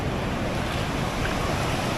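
Ocean surf rolls in on a cloudy day at Cox's Bazar beach as a loud, continuous roar mixed with wind buffeting, with no voices.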